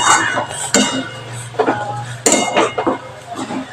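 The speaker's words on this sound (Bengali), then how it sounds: "এবার আমি ভালো করে অনেকক্ষণ ধরে সুজিটাকে নেড়ে নেব" Semolina being stirred into milk in a pot for a sweet dudh suji, with intermittent scraping clinks of a spoon against the pot over a low steady hum.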